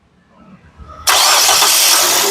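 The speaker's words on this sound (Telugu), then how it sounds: "ఒకసారి స్టార్ట్ చేసి చూపిస్తున్నాను చూడొచ్చండి సింగిల్ సెల్ఫ్లో కార్ స్టార్ట్ అవుతుంది" A 2011 Nissan Sunny XL engine cranks and catches abruptly after a quiet moment, then runs loud and steady at a close idle.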